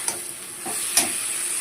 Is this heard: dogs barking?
no